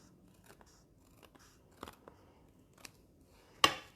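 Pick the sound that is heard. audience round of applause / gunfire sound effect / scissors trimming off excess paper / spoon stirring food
scissors trimming off excess paper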